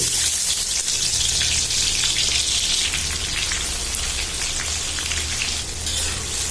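Whole spices and bay leaf frying in hot soybean oil: a loud, dense, continuous sizzle and crackle with a steady hiss like heavy rain, close up and uninterrupted.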